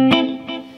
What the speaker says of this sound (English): letting that reverb give it a little bit of an echo feel